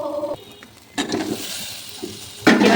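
Fried pointed gourd and potato pieces go into a pan of cooked-down masala, setting off two sudden bursts of loud, close sizzling over a quieter hiss, with no talking.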